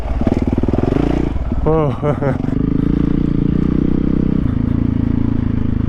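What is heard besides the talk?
dirt bike engine revving while riding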